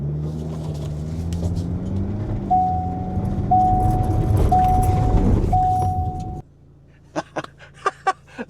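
A 2024 Ford Transit Custom MS-RT all-wheel-drive petrol hybrid van pulls away flat out on a loose private road, a loud rising engine roar with steady tones that cuts off abruptly into near quiet and a few clicks.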